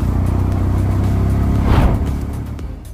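A hired CNG auto-rickshaw drives along a road on a day tour of Sunamganj, Bangladesh. Its small engine hums and rumbles steadily nearby, swelling briefly as it revs or passes something, with no voices.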